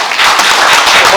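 Loud, dense audience applause at a banquet-style gathering as guests are introduced, starting abruptly and continuing steadily.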